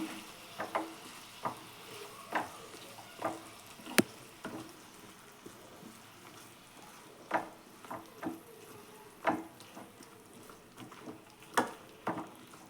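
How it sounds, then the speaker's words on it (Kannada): Boiled raw jackfruit and dried beans fry in a pan, making a soft, quiet sizzle punctuated by regular spatula scrapes and taps every second or so, with no voices. "ಒಂದು 2 ನಿಮಿಷ ಇದನ್ನು ಹಂಗೆ ಫ್ರೈ ಮಾಡ್ಕೊಳ್ಳಿ"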